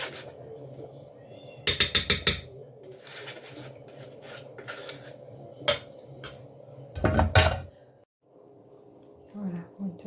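A spoon scrapes and clinks against a bowl while a lentil and fruit salad with figs, banana, pineapple, pear, hazelnuts and walnuts is stirred, coming in short clattering bursts over a low background hum.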